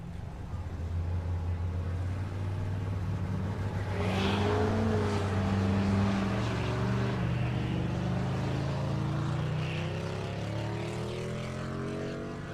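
A G-body car and a Silverado pickup at a drag strip, engines droning steadily and swelling as they launch and pull away down the track, loud and continuous for the whole stretch.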